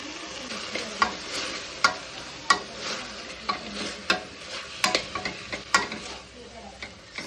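Ground masala paste going into a hot pan for mutton sambar, with a steady sizzle and repeated stirring scrapes and clacks at a regular pace, close and moderately loud, with no talking.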